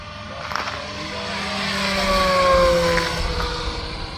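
A giant HSD Jets model ME-262 jet airplane flying past, its turbine whine and rushing roar swelling steadily toward a peak and then easing slightly as it passes at moderate distance.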